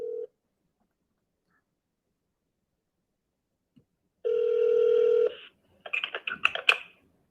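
Telephone dial tones and a steady electronic ringing tone come through a call line: a short tone, a pause, one sustained ring of about a second, then a quick flurry of keypad beeps, all clear and alone with no voices.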